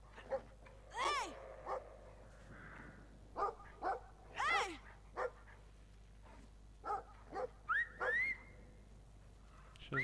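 In the video game Brothers: A Tale of Two Sons, a dog lets out a series of short, close barks and yips in irregular bursts, with a few whining, whistle-like tones between them.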